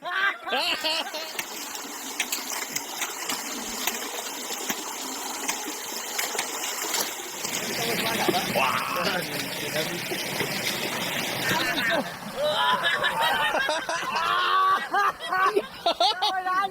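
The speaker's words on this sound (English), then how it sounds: "Kusog by busay." A waterfall's rushing water roars steadily and loudly nearby, with people calling out and talking over it in the Philippines.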